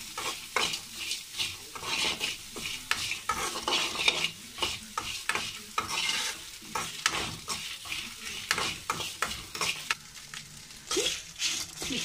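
Sliced bitter gourd is stirred as it fries in a pan, with a soft, steady sizzle under repeated scraping and clinking of a spoon against the pan, close and fairly quiet, with no talking.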